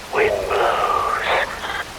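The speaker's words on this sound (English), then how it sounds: "Rain falls." Rain falls in the video game Metal Gear Rising Revengeance, a steady hiss under a prominent deep narrating voice that talks throughout the short stretch.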